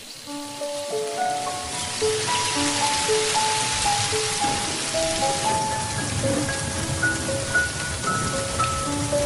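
Heavy rain pours down steadily and loudly, a dense wash of drops hitting surfaces with no break, under a quiet sustained musical background.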